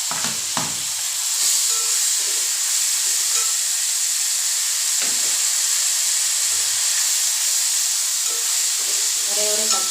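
A single tomato frying in a pan with sautéed ingredients gives a loud, steady sizzling hiss close by, broken by a few faint knocks of stirring.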